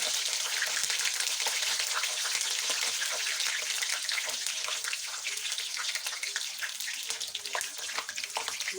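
Whole garlic cloves fry in hot oil alongside cinnamon and cardamom for a beef pickle, giving a loud, steady, crackling sizzle that runs unbroken throughout with no voices.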